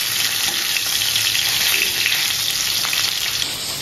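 Whole fish frying in oil in a pan on a gas stove, a loud steady crackling sizzle heard close up without pause and with no talk.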